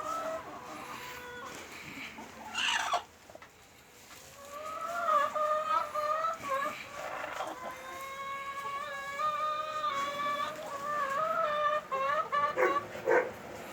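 Several chickens cluck and squawk near at hand in a coop, with a rooster's louder harmonic calls rising repeatedly over the busy flock.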